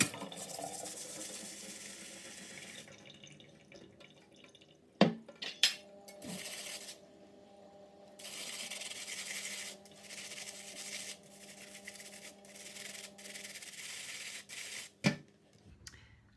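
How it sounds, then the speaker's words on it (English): Dishes being washed by hand with a Marseille soap bar and a coconut scourer: quiet scrubbing and rubbing, sharp clinks and knocks of crockery, and stretches of running water, close and intimate. "I'm going to use my coconut scourer, and then I'm just going to wash my dishes"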